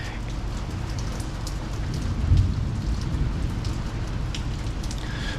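Heavy rain pours steadily at night on a farm, a dense, continuous hiss with a faint low rumble swelling briefly partway through.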